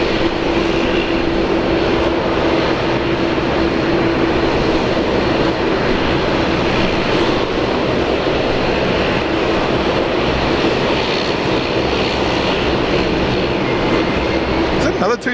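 An Airbus A220 airliner on approach at Brisbane Airport, a loud, continuous broadband engine roar with a steady tonal whine that holds evenly through the whole stretch.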